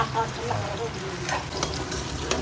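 Okra being stir-fried in a pan as a side dish, a steady close sizzle broken by scraping stirs and occasional clinks of the utensil against the pan.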